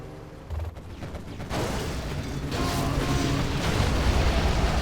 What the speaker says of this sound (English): Here comes artillery now from Excal.